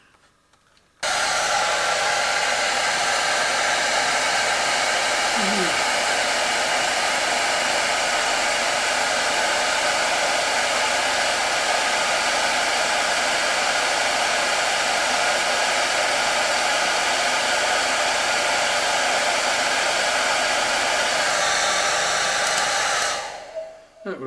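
A heater switched on to warm a microscope specimen, blowing a loud steady rushing whir that starts abruptly after a second, holds evenly for about twenty seconds, then cuts off near the end.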